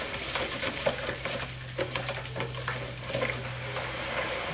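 Lye mixture for liquid soap heats up, giving a steady faint sizzling and bubbling hiss with small pops and a low hum underneath, with no talk.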